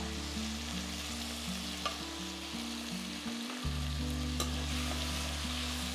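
Onions, tomatoes and green chili sautéing in a pan for poha upma, with a steady close sizzle and stirring scrapes throughout, alone without speech.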